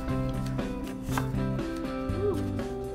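A knife cuts thick apple slices in half for apple pie morning oatmeal, a few soft chopping knocks spread over three seconds under steady tonal background music, with no talking.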